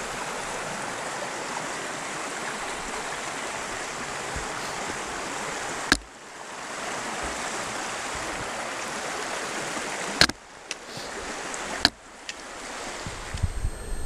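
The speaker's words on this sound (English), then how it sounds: "we have our first water crossing" Stream at a water crossing on the Appalachian Trail between Cooper Gap and Neel Gap, Georgia, a steady close broadband rush of flowing water with a few brief knocks and bumps from handling gear.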